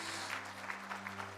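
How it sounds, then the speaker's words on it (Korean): A church congregation at a Sunday joint worship service gives steady applause, a soft, even patter of many hands at moderate distance that carries on without pause. No one speaks over it. "우리 한번 큰 박수로 격려해 주시기 바랍니다"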